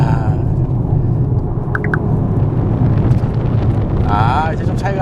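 A 2022 Maserati Ghibli GT accelerates in sport mode using paddle shifts. A steady low engine rumble sits under wind buffeting, and a rising tonal whine swells near the end.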